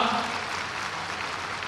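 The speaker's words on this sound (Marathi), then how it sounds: "सगळ्या महिलांनी एकदा मोदीजींकरता जोरदार टाळ्या या ठिकाणी वाजवा." A large political rally crowd claps loudly and steadily, a dense wash of applause holding at an even level throughout with no pause.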